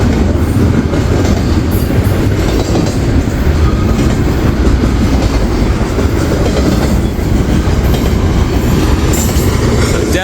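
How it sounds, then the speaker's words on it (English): Intermodal freight train hauling FedEx, UPS and JB Hunt containers rolls past on the rail line, a loud, steady rumble with constant wheel clatter close by, no voices. "Definitely a hot train on the network."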